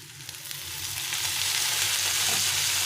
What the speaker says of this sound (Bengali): ভিনিগার দিয়ে আবার একটু ভেজে নেব।